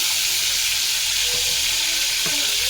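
Mutton pieces fry in hot oil for a mutton afghani, giving a loud, dense, continuous sizzling hiss up close, with a few soft pops and crackles and no one talking.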